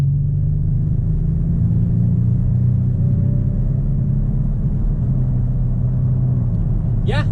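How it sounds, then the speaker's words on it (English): Inside a 2019 Lincoln Navigator full-size luxury SUV speeding up on the interstate, a steady low engine and road rumble swells gently as it gains speed, close and loud throughout. "We're going to take the Navigator on the interstate just to get a little bit of an acceleration here"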